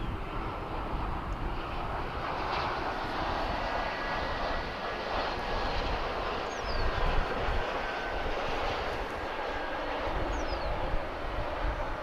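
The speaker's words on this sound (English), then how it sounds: "American Flight 102, another Dreamliner on Runway DFW" A Boeing 787 Dreamliner airliner, American Flight 102, rumbles steadily on the runway at DFW airport, a sustained distant jet engine roar with a faint whine, heard alone without talk.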